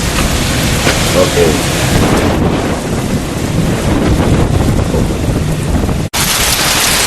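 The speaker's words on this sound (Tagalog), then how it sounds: "bumabagyo dito sa amin" Storm with heavy rain and wind battering the microphone, a steady loud roar of rainfall and gusts with rumbling low noise throughout, a brief cut near the end, and a voice speaking briefly.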